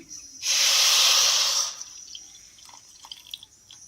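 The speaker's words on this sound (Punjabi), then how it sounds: "ਇਹਦੇ ਵਿੱਚ ਅੱਧਾ ਕੌਲੀ ਪਾਣੀ ਦੀ ਪਾ ਦੇਣੀ ਹੈ" Half a bowl of water poured onto jaggery in a pan on a gas stove to make syrup gives a loud, steady rushing hiss lasting just over a second. Quieter faint clatter follows.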